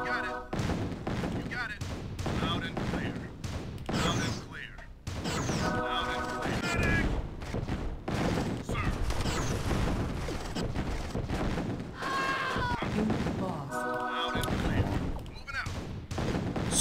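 Gunfire and explosions in the strategy game Command and Conquer: Tiberian Sun, a dense, continuous battle din of shots and crashes filling the whole stretch, with a voice talking over part of it.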